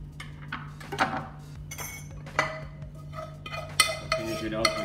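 Slices of tender rib eye steak set down onto a plate of green vegetables, with a handful of light, close clinks of utensils against china over a steady low hum.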